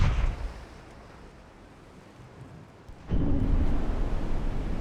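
A torpedo hits a ship in a naval warfare game: after a quiet lull, a sudden deep explosive boom erupts and rolls into a sustained rumbling roar.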